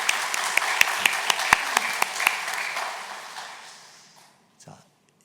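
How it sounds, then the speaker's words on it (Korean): A congregation claps together at a Sunday church service, a run of evenly spaced claps at moderate distance that thins out and fades to silence, followed by a brief soft noise. "하나님께 영광의 박수 올려드리겠습니다"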